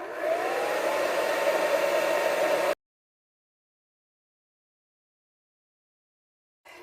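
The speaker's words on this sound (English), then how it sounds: "So you just like when you're blow drying, you lift up these layers like this." A hair dryer runs in a steady, close whooshing drone while blow drying a curly human hair topper, cutting off abruptly, followed by silence and a brief restart at the end.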